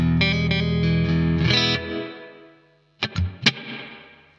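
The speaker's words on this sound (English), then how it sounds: "Let's go for a spring reverb." Distorted electric guitar through the spring reverb of a Blackstar AMPED floorboard amp: a loud sustained chord that rings out and fades, followed by a few sharp plucked notes with a short splashy tail.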